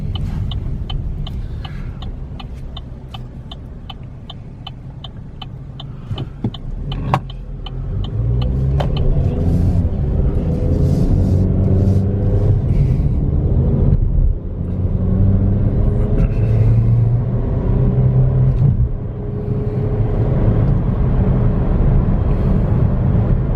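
A salvage-repairable 2015 Chevy Sonic LT builds toward near highway speed. A regular ticking comes first, then a steady engine and road rumble swells and holds from inside the cabin, with no voices.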